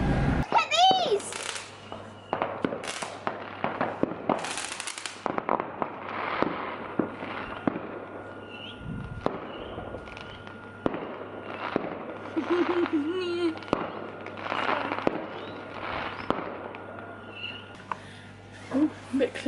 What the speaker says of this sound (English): Just casually watching everybody else's fireworks.